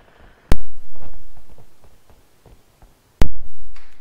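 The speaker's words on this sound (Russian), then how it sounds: "какая гранатка хорошая" Two sharp, loud grenade blasts in a tactical shooter match, each a sudden bang with a decaying rumble, about three seconds apart over faint background game noise.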